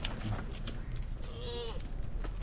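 Goats bleating close by during a campervan trip near Ypres, Belgium, one clear wavering bleat in the middle amid background rustle and faint outdoor noise.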